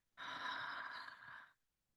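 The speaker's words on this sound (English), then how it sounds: "And a deep breath out." A deep exhaling breath during a guided breathing exercise, one long steady airy outbreath lasting over a second, close and soft.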